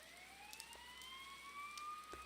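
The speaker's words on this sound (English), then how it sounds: "You hear sirens nearby." Police sirens wail nearby in the video game Persona 4 Golden, a faint, steady rising tone that sustains for a couple of seconds without any voices.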